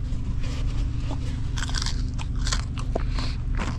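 Close, crisp bites and crunching into home-made fried catfish seasoned with lemon and pepper, eaten while truck camping, with a few sharp crackly bursts over a steady low rumble of background noise.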